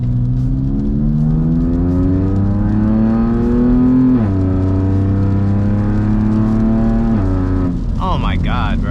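A BMW S55 engine with a Valvetronic equal-length exhaust revving, a loud, close, droning note that climbs, dips sharply, climbs again and falls away near the end.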